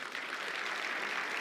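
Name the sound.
audience applause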